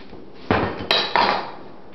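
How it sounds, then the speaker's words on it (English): A mixing bowl full of dense chocolate chip cookie dough is lifted off a mixer, making three quick, loud metallic clanks and clinks at close range with no talking. "Just remove the bowl."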